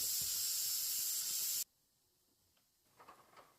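A pressure cooker cooking mung beans lets out a loud, steady steam hiss that cuts off abruptly, followed by quiet kitchen clatter and faint rustling.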